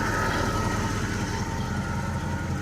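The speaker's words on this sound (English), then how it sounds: "It's been idling here for a while with the cap off, and I think it's overheating," An overheating Oldsmobile 98, formerly seized, idles steadily with its radiator cap off, a loud, even engine drone holding without change throughout.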